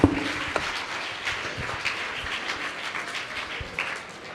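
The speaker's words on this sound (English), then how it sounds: "Let's give her a clap." A student audience claps for a guest at a school interaction session, a loose burst of applause that starts sharply and continues at a steady level for a few seconds, with no talking.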